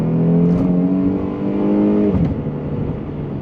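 A 2014 Mercedes W212 E350 rear-wheel-drive sedan accelerates hard in its sport transmission setting, engine note rising loud and close and then shifting, with no talking.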